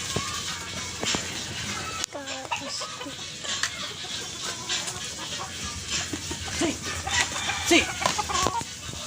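Several fighting-breed chickens cluck and call around a close-up feeding scene, with scattered pecking and rustling noises throughout.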